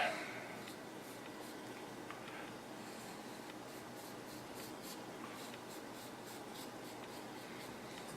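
A marker inking the bevel of a knife blade before freehand sharpening, giving soft, continuous squeaky rubbing strokes up close, faint and steady.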